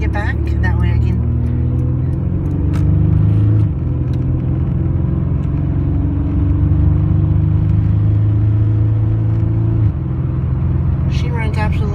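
A 1988 Nissan 300ZX cruising along a road, heard from inside as a loud, steady engine rumble and drone that shifts pitch a few times as it changes speed, with a person talking over it.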